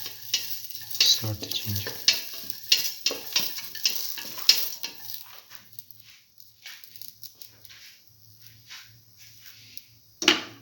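Ginger sautéing with salt in a pan for a cucumber black lentil stew, a steady soft sizzle broken by stirring scrapes, busier in the first half, then thinning, with a sharp clatter near the end.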